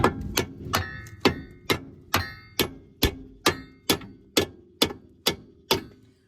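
Metal hammer strikes ring out in a steady series of about fifteen sharp, loud blows, evenly spaced roughly every half second, each with a bright clanging decay and no voices.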